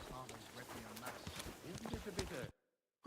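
Horse hooves clip-clop steadily in Kingdom Come: Deliverance 2 as the horse Pebbles is ridden, a fast close rhythm mixed under game music and someone talking over it, cutting off sharply near the end.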